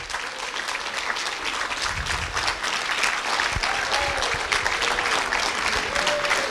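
A room full of people at a Toastmasters gathering claps steadily as a member is called up to the front, a sustained loud patter of hands with some faint crowd murmur underneath.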